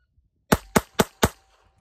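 Four sharp Kel-Tec P32 pistol shots in quick, even succession, loud and close, each with a short ringing decay and no talk.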